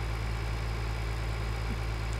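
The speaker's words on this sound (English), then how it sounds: "I shouldn't have taken the green tractor either." A green tractor's engine idles in Farming Simulator 2013, a steady low droning rumble with an even pulsing hum and no speech.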